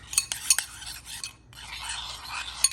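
A spoon briskly stirs a yeast mixture in a bowl, producing quick close scraping and light clinks in short bursts, with no voices.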